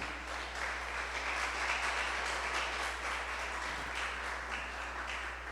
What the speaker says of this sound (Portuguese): Pode aplaudir Jesus por isso?